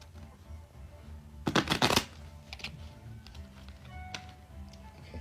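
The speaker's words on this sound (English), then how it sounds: "Okay, I'm gonna shuffle one more time." Tarot cards being shuffled: a half-second burst of dense riffling flutter, then a few light taps and handling clicks against a quiet room.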